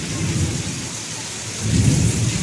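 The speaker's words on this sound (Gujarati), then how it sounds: "બહુ વરસાદ પડ્યો મિત્રો" Heavy monsoon-style downpour in Gujarat, a steady hiss of rain on surfaces with low rumbling thunder that swells louder toward the end, no voices.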